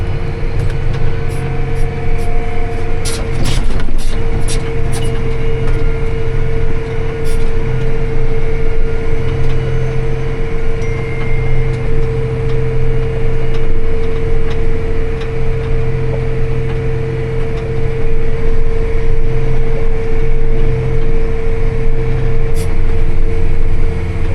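A hay baler works steadily in an open hay field, its engine and machinery droning loud and continuous with a steady mechanical hum and rumble throughout, no voices heard.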